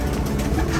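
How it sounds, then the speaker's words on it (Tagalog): Pigeons coo inside a loft holding Janssen and Japan White birds, a brief murmur half-buried under dense, steady background noise. "Yan dami nating kalapati dito sa loob pa."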